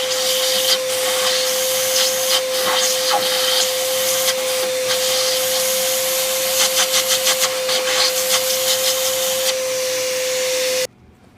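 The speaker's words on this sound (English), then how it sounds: "wet dry vac to vacuum the shavings." A small wet dry vac runs steadily with a constant motor whine, sucking metal shavings from a drain plug hole on a Raptor 700 during a thread repair, with rattling bits of debris, then cuts off near the end.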